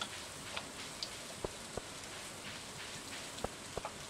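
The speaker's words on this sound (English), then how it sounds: "It sure has been raining a lot." Soft rain falling in the farming game Stardew Valley, a quiet steady hiss with scattered light drip ticks, no one talking.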